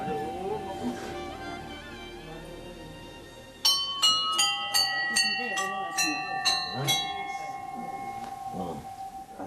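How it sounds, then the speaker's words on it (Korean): A temple bell in Nepal strikes at dawn, a run of about eight bright ringing strokes with long humming tails that overlap and linger, following a stretch of murmuring voices and morning ambience. "아침을 알리는 종소리와 함께 사원에서 불을 피우고"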